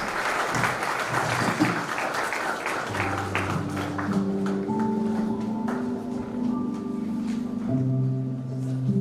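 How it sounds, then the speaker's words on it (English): Applause for the chief guest, Justice Krishna Malai, at a national law fest event, steady and fairly loud throughout, with musical tones rising beneath the clapping in the second half. "Give a round of applause."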